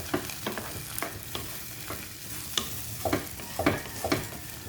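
Eggs with sardines and vegetables sizzle in a pan while a utensil stirs and scrapes at an irregular pace, close and fairly quiet.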